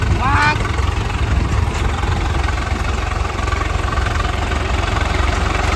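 A tractor engine chugs steadily nearby, a loud low rumble throughout, with people talking over it.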